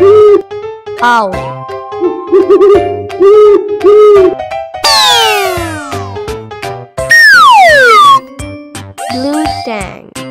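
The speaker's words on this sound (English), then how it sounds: "Owl." An owl hooting in a children's animal-sounds sequence, a series of loud, clear hoots repeated several times against a bright musical backing, with swooping whistle-like tones toward the end.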